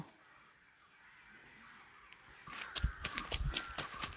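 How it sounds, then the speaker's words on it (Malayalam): Near-silence gives way to a crow cawing several times in quick succession, harsh and fairly close. "കാക്കയാണോ?"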